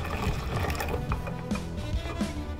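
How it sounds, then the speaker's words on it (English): KoMo Flocino grain flaker crushing oats at its coarse setting, a steady close mechanical grinding and crackling rattle that continues without pause. "First we flocculate the oats at the coarse level."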